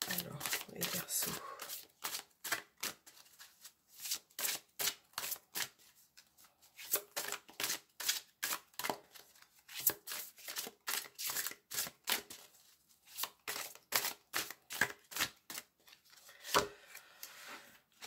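Oracle cards being shuffled by hand in quick bursts of crisp riffling and slapping, close and fairly quiet, with brief pauses between runs and no speech.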